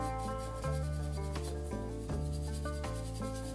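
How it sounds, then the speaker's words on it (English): A brush sweeps excess finish off a prop blaster in slow repeated strokes, a close dry rubbing texture over a steady tonal hum in the background. "Once we get all of the excess brushed off"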